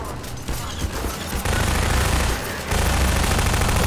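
Dense, continuous turret gunfire in the Half-Life 2 video game keeps up as a loud, chaotic barrage with overlapping shots and a steady heavy rumble beneath.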